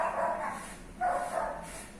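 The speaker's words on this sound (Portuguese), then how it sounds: "desculpa os barulhos de cachorro" A dog barks indoors, giving two short, fairly loud yelps about a second apart over a quiet room hum, with no one speaking.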